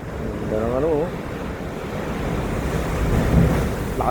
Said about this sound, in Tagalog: Lakas ang alon sa baba.